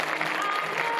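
Brief burst of audience applause at a packed film screening, a dense continuous patter of many hands at steady volume for about a second.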